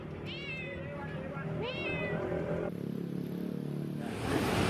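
A cat stuck on a bridge meows twice in rising, plaintive cries, then falls quiet while a steady background hum and distant traffic noise continue.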